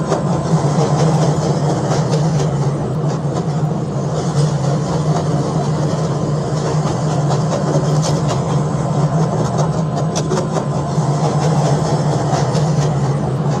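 A CTA 5000 series Green Line train in Roblox runs with a steady loud rumble and hum of motors and wheels. The noise holds level throughout, with faint clicks and rattles and no speech.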